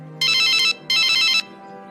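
A telephone rings loudly in two clear, evenly spaced electronic bursts, close and alone with no talk over it.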